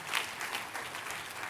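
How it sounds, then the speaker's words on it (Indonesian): Applause from a church congregation during a sermon, a fairly quiet, steady patter of many hands clapping throughout, with no talk over it. "Tepuk tangannya boleh yang paling meriah buat Tuhan kita."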